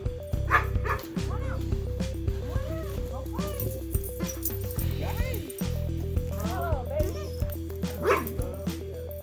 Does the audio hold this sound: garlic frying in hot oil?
no